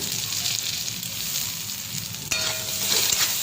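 Catfish and eggplant frying with turmeric and salt, a dense close sizzle that jumps louder midway as stirring begins, with brief scraping, no talk.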